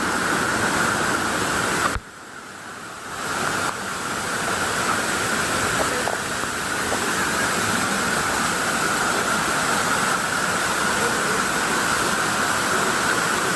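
A waterfall formed over hardened lava rock beside a river in Gemleng pours in a dense, constant broadband roar, loud and close, with one brief dip partway through before the rush resumes steadily.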